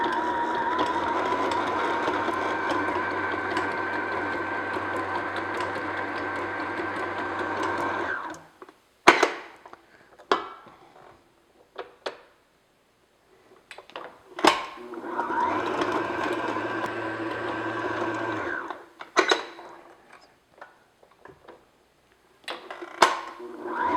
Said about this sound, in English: I just want to beat this until it's smooth and just on medium speed